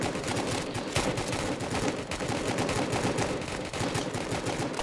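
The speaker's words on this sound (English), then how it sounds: "I hear shooting, so I'm just heading to my cell, or to a cell." Continuous rapid gunfire in the video game Roblox Prison Life, a dense, crackling stream of automatic shots going on without a break, fairly loud and with no talking.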